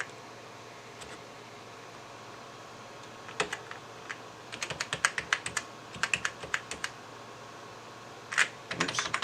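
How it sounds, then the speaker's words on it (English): Typing on a computer keyboard while entering a Windows 98 SE product key: scattered bursts of close, crisp key clicks, some quick runs and pauses, over a faint steady hum. "I keep typing it wrong."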